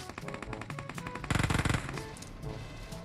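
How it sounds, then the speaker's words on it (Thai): Rapid automatic gunfire in PUBG Mobile aimed at poles: steady strings of close shots with a louder, denser burst in the middle and no talking. "มันต้องยิงทุกเสาจริงๆด้วย"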